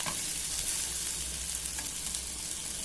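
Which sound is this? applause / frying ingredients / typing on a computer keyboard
frying ingredients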